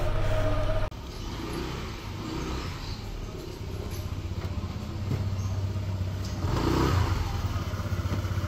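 A Honda PCX160 scooter engine idles and runs steadily nearby, with a continuous low rumble that swells briefly toward the end; no one speaks.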